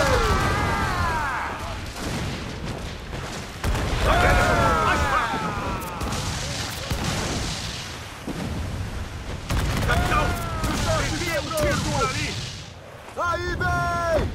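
Ship cannon fire in Assassin's Creed IV: Black Flag, with heavy booms and crashing amid battle noise while several voices shout over it.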